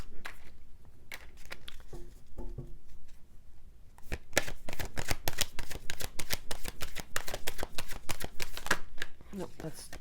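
An Oracle card deck being shuffled by hand in riffling bursts of quick papery flicks, sparse at first and then dense and rhythmic, with a voice speaking softly in between.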